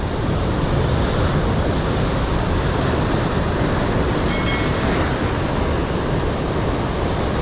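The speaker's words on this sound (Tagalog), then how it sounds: "Nadali agad tayo ng alon." Ocean surf crashes steadily against a rocky shoreline fishing spot, a loud, continuous broadband roar of breaking waves with wind noise on the microphone and no talk.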